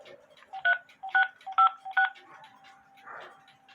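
Four crisp telephone keypad DTMF tones sound in quick, even succession, entering digits during an automated call to a payment service, followed by a brief softer tone and a faint line hum.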